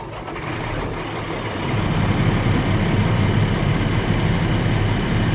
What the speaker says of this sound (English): My vehicle is now started.